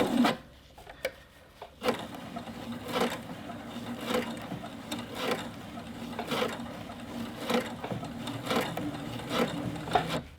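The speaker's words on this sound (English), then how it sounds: "I'm just going to lower my presser foot, and I'm going to stitch away" A domestic sewing machine with a gathering foot stitches fabric in a steady, quick mechanical whir with regular ticking pulses, close and clear for about ten seconds, with nobody talking.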